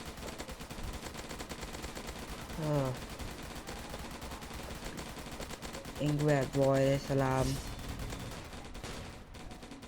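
Rapid bursts of video game gunfire crackle against a constant noisy backdrop while someone speaks in short phrases over the shooting, in a zombie attack game.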